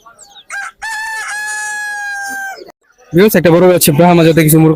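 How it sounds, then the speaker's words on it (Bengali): A rooster lets out one loud, long crow close by at a bird market in Fatullah, Bangladesh, followed after a brief pause by a burst of harsh clucking and squawking. "এখানে দুটো মুরগি আর একটা মোরগ দেখতেছিলাম"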